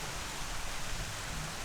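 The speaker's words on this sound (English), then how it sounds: "And now it's back to rain. Oh, it was raining a little bit now." Light rain falling outdoors, heard as a steady, even hiss that fills the whole moment with no other distinct sounds.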